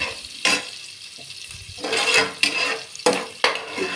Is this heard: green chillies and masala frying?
yes